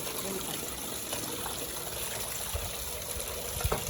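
Water being filled in a home, a continuous rushing trickle of running liquid with faint thumps and background noise.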